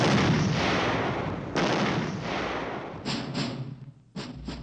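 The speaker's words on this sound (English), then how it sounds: "the troops took up positions on the range and began test firing their weapons" Army infantry weapons test-fired on a training range at Grafenwöhr, a series of loud, booming reports with rolling echoes, several heavy blasts followed by quicker paired shots, with no voices.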